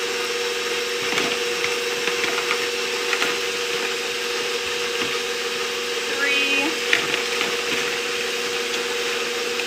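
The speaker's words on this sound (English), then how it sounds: "So I'm going to let that knead on there with my dough hook." A stand mixer works pretzel dough with a dough hook, giving a steady motor whir with rhythmic thumping and knocking as the dough turns, continuous and fairly loud for the whole stretch.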